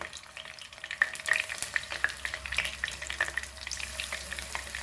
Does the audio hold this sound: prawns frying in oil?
yes